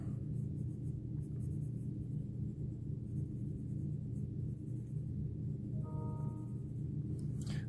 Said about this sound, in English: I can go really as dark as my pencil will allow me